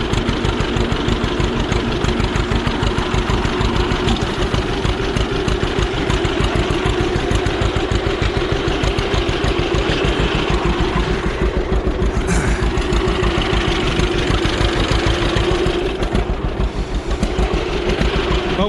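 An old John Deere tractor idles after a cold start, a loud, steady low chugging rumble that runs unbroken and close throughout.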